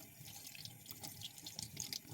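Silver jewellery being washed under running water, a soft, steady trickle and splash from a faucet that is faint throughout.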